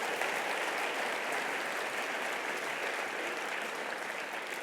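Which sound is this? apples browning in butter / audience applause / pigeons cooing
audience applause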